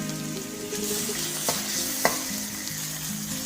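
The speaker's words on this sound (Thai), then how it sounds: "เมื่อน้ำมันร้อนแล้วก็ใส่กระเทียมครับ กระเทียมโขลกนะครับเอาลงไป เคี่ยวให้เหลืองก่อนครับ" Pounded garlic frying in hot oil in a wok, giving a steady close sizzle with two sharp clicks of a stirring utensil against the pan and no talking.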